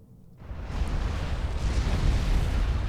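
Deep rumbling explosions of detonating structures in Supreme Commander 2 build from quiet into a sustained, roaring low boom that stays loud and dense for the rest of the moment.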